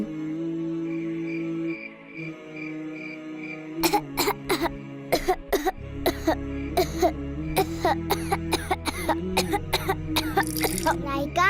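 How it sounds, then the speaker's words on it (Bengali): A series of harsh, repeated coughs in rapid bursts, loud and close, from a cartoon, following a stretch of steady background music. "আপনার হঠাৎ এত কাশি কেন হচ্ছে"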